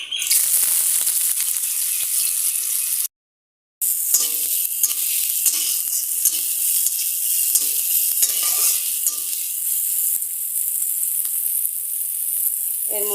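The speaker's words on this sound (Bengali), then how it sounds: "কড়াইটা গরম হয়ে গেছে, এখন আমি পেঁয়াজ আর কাঁচা লঙ্কাটা দিয়ে দেব।" Onion and green chili hit a hot kadai, giving a loud, steady, crackling sizzle that runs throughout, broken once by a brief moment of silence.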